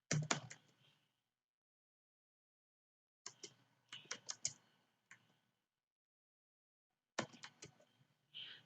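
Bursts of brisk typing on a computer keyboard while filling in an online registration form, with quick clustered key clicks separated by pauses of silence, close and fairly quiet.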